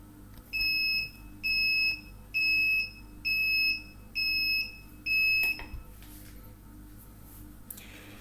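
An HT10 incubator controller alarm gives six evenly spaced, shrill electronic beeps, each about half a second long, then stops. The beeps are close and clear over a faint background hum.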